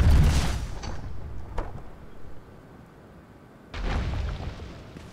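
Trebuchet strike smashing a player base in Conan Exiles: a heavy rumbling boom at the start that decays into a low, debris-like roar, a quieter stretch, then a second loud crashing burst near the end.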